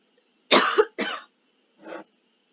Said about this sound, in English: because I'm coughing